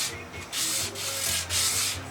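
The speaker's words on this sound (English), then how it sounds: "So we're just doing a final little sanding everywhere for now." Sandpaper rubs over dried epoxy on a boat in repeated strokes, making a steady scratchy hiss that swells and fades with each pass, close and alone.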